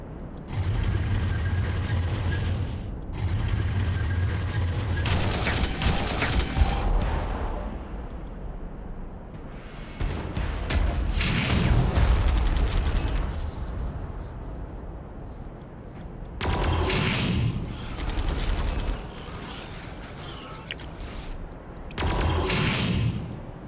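Gunfire in Warhammer 40,000 Armageddon, a turn-based strategy wargame: several separate loud bursts of shots and impacts, each lasting a few seconds with quieter gaps between, no talking over them.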